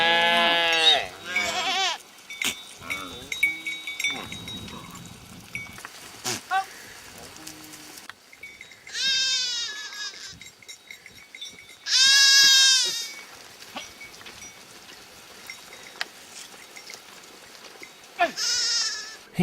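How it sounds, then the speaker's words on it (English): A herd of goats and sheep being driven to new grazing grounds by Toposa herders, with repeated bleats near and far, some loud and drawn out, over an open outdoor backdrop with scattered quieter calls and soft rustling. "Here come his brothers with the goats and sheep."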